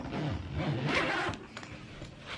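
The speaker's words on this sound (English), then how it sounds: "Zip it on up." Luggage zipper drawn shut on a suitcase packed for a Disney cruise, a steady rasping pull of about a second and a half, close and clear, followed by a few fainter scrapes and rustles.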